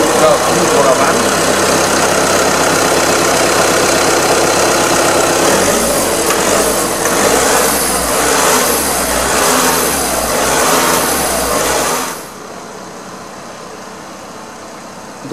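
DPF cleaning machine running on an Audi Q3 2L TDI, a steady mechanical hum with an engine idling beneath, loud and constant before cutting off near the end; speech seems mixed in.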